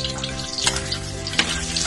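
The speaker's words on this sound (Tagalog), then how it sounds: "Habang mainit ang mantika, ilagay na natin ang bawang. Isunod ang sibuyas." Garlic and onion dropped into hot cooking oil for menudo, giving a steady close sizzle with a couple of brighter crackling surges, no voices.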